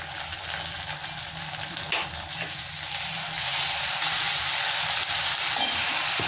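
Ginger garlic paste and green chillies sizzling with onions in a pan, a continuous frying hiss that grows slightly louder partway through.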